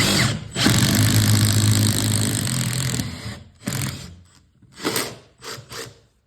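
A cordless power drill fitted with Bosch Expert bits bores through material on a plumbing job, with a loud sustained whirring run followed by several shorter bursts and pauses.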